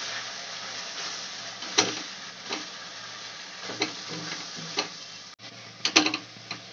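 Ginger and garlic being stirred in a pan for a chicken curry with taro roots, a soft steady sizzle under repeated scraping knocks of a spoon, some sharper taps standing out, no voices.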